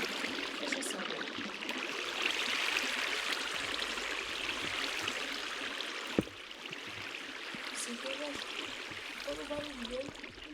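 Steady broadband rush of flowing water from the Minecraft modpack Pokecraft, running continuously at a moderate level for the whole stretch, with a brief click partway through and faint tonal game sounds near the end.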